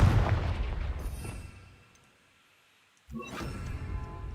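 Fiery Confringo spell blast in the Hogwarts Legacy video game, a loud booming burst that rumbles and fades into near silence before a second sharp impact erupts.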